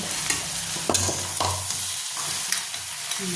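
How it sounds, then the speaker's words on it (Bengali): Crab frying in a pan with ground chili and turmeric, stirred briskly so the spoon scrapes and knocks in uneven strokes over a steady close sizzle. "এবার মশলার সঙ্গে ভালো করে কষিয়ে নেব"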